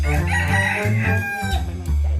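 A bantam rooster crows loudly and close by at Wat Sa Si Liam temple in Phitsanulok, a strained, wavering call with a few breaks that runs through the whole moment.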